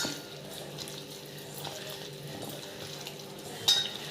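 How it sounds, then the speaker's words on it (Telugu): Chicken pieces being mixed by hand or spoon with salt, garam masala and turmeric, giving soft continuous wet squishing and stirring with a brief sharper knock near the end, no voices. "ఇప్పుడు అంతా కలిసేలా మిక్స్ చేసుకోవాలండి."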